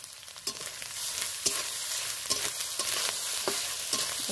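Grated coconut and chickpeas stir-fry in a pan with spices, a soft steady sizzle broken by repeated scraping strokes of a spatula every second or so, close and without talk.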